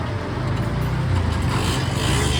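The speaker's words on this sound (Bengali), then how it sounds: "এই যে স্টার্ট করছে গাড়ি" A Yamaha R15 motorcycle engine runs after starting, a close, steady low rumble with a slight rising rev, alone without talk.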